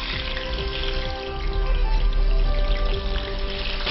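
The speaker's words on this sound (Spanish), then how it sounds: "con mucho cuidado, los vamos a freír" Patacones (flattened fried plantain) sizzling in hot oil, a steady dense crackle and bubbling that runs unbroken and fairly loud throughout, with no voices.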